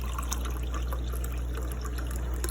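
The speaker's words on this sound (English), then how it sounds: "So I'm gonna take the stock and I'm going to pour it into this measuring cup." Kitchen stock poured into a measuring cup, a close, steady trickle of liquid with small splashy bursts over a low background hum.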